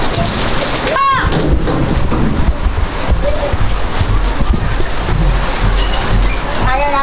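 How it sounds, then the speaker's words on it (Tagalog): Heavy rain pours steadily, a dense hiss and patter across the whole clip, with a few brief chirps and knocks mixed in. "Ulan kasi yun. Di ba mga kapams, ulan pa rin eh."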